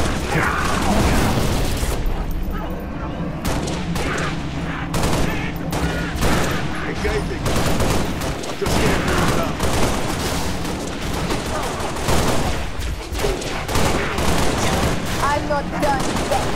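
Dense, sustained automatic gunfire in Halo: Reach rattles continuously with bursts of rapid shots, mechanical clatter and occasional booms, loud and close, with battle voices and chatter mixed underneath.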